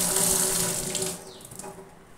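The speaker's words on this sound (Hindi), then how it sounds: "सबसे पहले हम इस आम को वॉश कर देंगे।" Raw mango rinsed under a running kitchen tap, a steady close splash of water that tapers off toward the end, with no voices.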